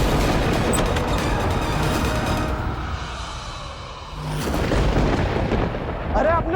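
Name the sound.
strong storm with thunder, TV drama sound effect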